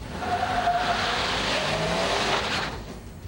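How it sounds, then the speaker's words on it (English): A four-wheel drive Dodge truck with a locking differential driving on a slippery surface, its engine revving loudly and steadily with tire noise, easing off near the end. "First, the four-wheel drive Dodge."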